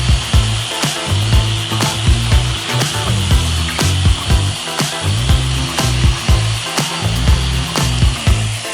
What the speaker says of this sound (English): This is what we're gonna use on the DA sander.